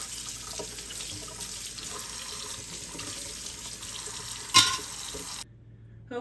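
Tap water runs steadily into a kitchen sink while canning lids and rings are washed, a close hiss with a brief clatter before the flow cuts off.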